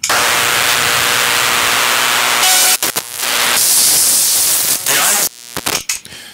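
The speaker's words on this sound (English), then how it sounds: "the thing it distorts is actually the tape noise itself" Harsh, dense hiss of tape noise driven through a Vox fuzz pedal, loud and crackling, broken by brief sputtering cut-outs and bursts toward the end.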